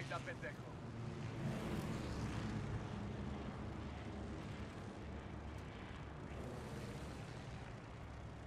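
Airplane engine in the Call of Duty: Vanguard video game, a continuous low roaring drone that swells and fades slightly, heard faintly and steadily throughout.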